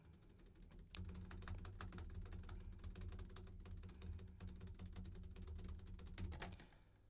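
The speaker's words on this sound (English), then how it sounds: "This is the keyboard test." Steady typing on a computer keyboard picked up by a Shure SM58 microphone: a dense, continuous clatter of quick key clicks, fairly soft and at a moderate distance, with no voices.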